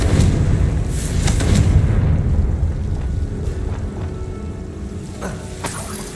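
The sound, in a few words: explosion from Bombarda/Confringo spell in Hogwarts Legacy, video game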